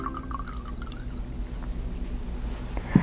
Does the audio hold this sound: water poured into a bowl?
yes